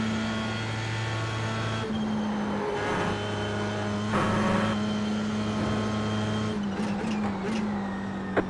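Steady droning Dallara F3 racing-car engine hum in a video game at Virginia International Raceway, with whining tones that shift pitch between gears, continuous and fairly loud, with faint background noise.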